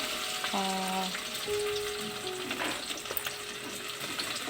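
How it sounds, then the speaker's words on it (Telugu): Tomatoes, onions and green chillies fry in a mix of oil and ghee, giving a steady, loud sizzle close up with a few faint clinks and some stirring. "కొన్ని టమాటాలు కొన్ని ఆనియన్స్ రెండు పచ్చిమిర్చి కొంచెం కొత్తిమీర కొంచెం బగారాకు నూనెలో ఫ్రై చేసుకున్న"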